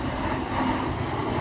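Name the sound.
airplane flying overhead on approach to airport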